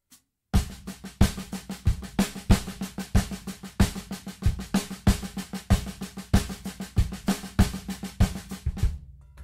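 A drum kit plays a steady paradiddle-based groove, with crisp, evenly spaced hits and accented strokes repeating for several bars, close and loud, with no talk.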